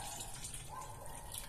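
Warm water, 400 ml, pours into a mixing bowl to make Italian artisan bread dough, a steady faint splashing trickle.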